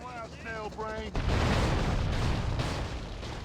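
Gunfire and explosions burst out in the video game GTA Vice City Stories, a loud, sustained clatter of shots and blasts following a brief stretch of talk.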